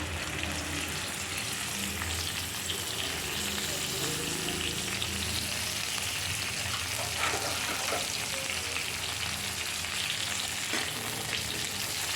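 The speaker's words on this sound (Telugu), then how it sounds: "దాంట్లో పచ్చిమిరపకాయలు వేసుకున్నాండి. ఇది బాగా వేయించుకోవాలి." Green chilies frying in hot oil in a pan for gongura pachdi, a steady close sizzle and crackle that runs evenly throughout with no talking.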